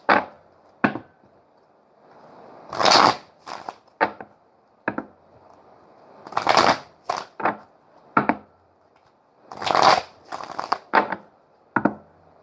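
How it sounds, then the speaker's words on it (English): A deck of reading cards is shuffled repeatedly, sharp riffling bursts and quick taps recurring in uneven clusters, close and clear with no talking. "I didn't like that shuffle"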